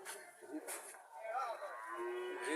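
A local-breed bull calf moos several times in a row at Chouara cattle market in Comilla, Bangladesh, close and fairly loud, its bleating calls rising and wavering over a steady background.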